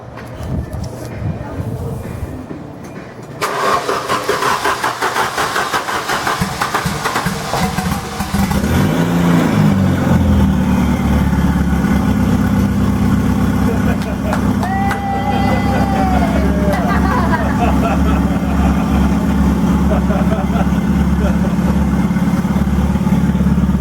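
A Volvo 740 turbo wagon engine, freshly swapped in, cranks and catches, then settles into a loud, steady idle that runs on close by with a low rumble.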